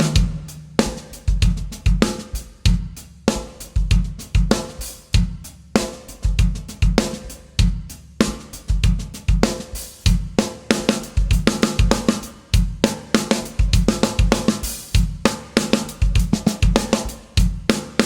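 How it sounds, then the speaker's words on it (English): A drum kit plays a steady groove with offbeat accents and soft ghost notes on the snare, loud and close with strong dynamic contrast between hits, continuing without pause and with no voices. "has offbeat accents and I play some ghost notes on the snare drum, it gives us a much more dynamically interesting groove"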